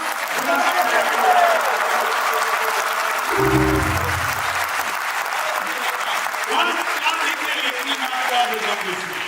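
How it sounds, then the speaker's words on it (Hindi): A live audience at a Hindi comedy poetry show breaks into loud, sustained applause, a dense wash of clapping that runs steadily throughout, with a brief low rumble and some voices mixed in. "आप लोग जोरदार तालियां।"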